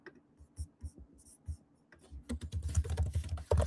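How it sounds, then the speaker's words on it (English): Quiet keystrokes on a computer keyboard, first a few scattered taps, then a faster burst of clattering typing that grows louder toward the end, with no talk over it. "what was I going to type in?"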